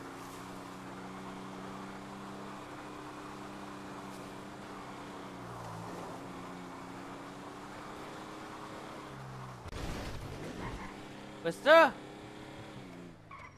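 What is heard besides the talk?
car driving and skidding in a video game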